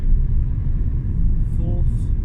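Vauxhall Zafira Tourer with an F40 gearbox pulling away and accelerating through the gears, a steady low engine and road rumble heard from inside the cabin, with a voice speaking over it.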